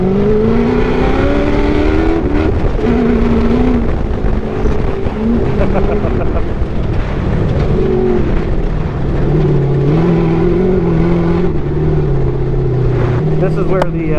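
A 1700HP sandrail roars steadily while cruising on the Glamis sand dunes, its engine note droning and shifting in pitch with wind buffeting the microphone, and a voice talks over it.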